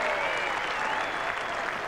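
A cricket crowd during the 1981 Ashes series claps steadily and broadly from a distance, with a busy crowd murmur and a commentator's voice underneath.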